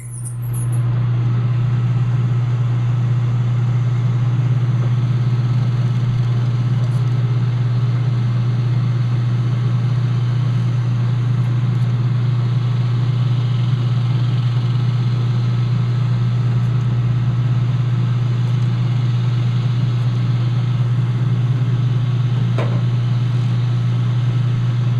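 A lathe spinning at 8,000 rpm gives off a loud, steady, unbroken motor hum with a low droning tone that holds constant throughout.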